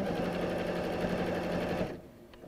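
A sewing machine stitching fabric at a steady fast buzzing rhythm, close and continuous for about two seconds before stopping abruptly.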